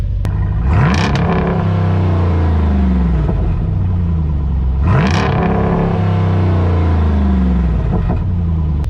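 A loud 392 V8 engine in a Jeep Wrangler with an AWE Tuning exhaust and the exhaust valves open revs hard twice, roaring up with an open, throaty note and falling back to a deep burbling idle between.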